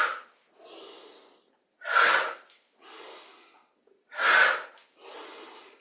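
Slow, deliberate breaths during a yoga breathing exercise: strong nasal inhalations alternating with softer exhalations, six breaths in all, close and with no talking.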